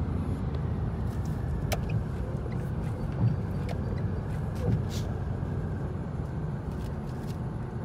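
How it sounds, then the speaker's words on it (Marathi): Car driven at night on a road, a steady low engine and road rumble filling the cabin throughout with a few faint clicks and knocks, while voices talk quietly inside. "बघा आम्ही कशी गाडी चालवते."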